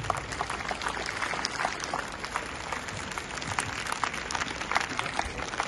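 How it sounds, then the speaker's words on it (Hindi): Audience applause at a Hindi-language gathering held at a school, a dense, steady wash of many hands clapping that continues at an even level through the whole clip with no speech over it. "शानदार तालियों से आपका अभिनंदन है।"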